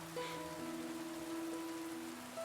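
Steady rain falls in a soft, even hiss, faint and continuous, with a few thin tonal lines drifting over it.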